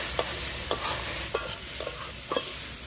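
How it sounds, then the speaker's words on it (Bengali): Fried soybeans tipped into a hot kadai and stirred, a steady sizzle broken by several sharp spatula scrapes and knocks at irregular intervals. "সয়াবিনগুলোকে ভালো করে ভেজে নিয়েছি। এবার কড়াইতে দিয়ে দেব।"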